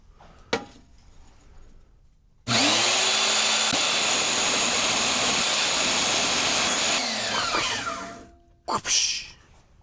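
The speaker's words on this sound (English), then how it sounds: "Now I'm just gonna cut this in half." A power tool saws a controller mount clamp piece in half, starting abruptly after a short quiet stretch and running loud and steady for about five seconds, then winding down, with a few brief knocks around it.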